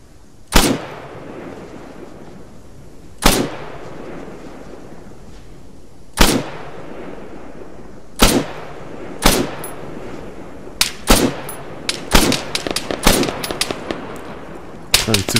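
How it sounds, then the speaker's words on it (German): Gunfire in the military video game Arma 3: sharp, loud single shots at irregular intervals, then quicker clustered bursts toward the end, over a low ambient background with no speech. "Zu viele Schüsse gebraucht."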